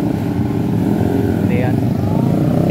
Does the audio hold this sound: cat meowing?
no